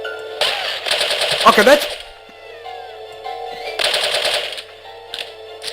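Gunfire in the No One Lives Forever video game, fired through a window at Oktoberfest, comes in two loud rapid bursts about two seconds apart with a voice talking over part of it.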